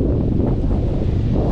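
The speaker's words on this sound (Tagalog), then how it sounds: "Taas pa rin na hangin." Strong typhoon wind blows across a farm where trees were felled, a loud, continuous roaring buffet close on the microphone with no talking.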